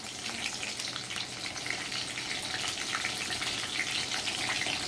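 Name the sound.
dried red and green chillies frying in hot oil tempering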